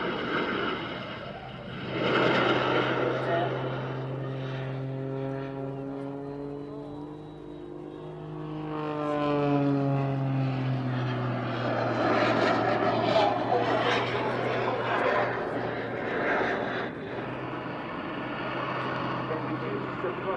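A propeller biplane performs at the Southport Air Show, its engine drone rising and falling in pitch as it passes overhead, loud and sustained with a Doppler sweep, with a voice faintly present.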